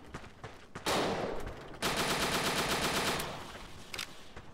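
Automatic gunfire in the World War II dinosaur shooter Dino D-Day, with loud, rapid bursts separated by short gaps and scattered single shots, close and with no voices.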